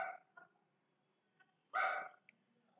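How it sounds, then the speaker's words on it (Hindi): A dog barks a few times nearby indoors: a short yip at the start, a faint one soon after, then one louder sustained bark near the end, with quiet between. "डॉग को मुझसे कुछ प्रॉब्लम है, इसी टाइम की भौंकने आता है जब मैं वीडियो बनाती हूँ"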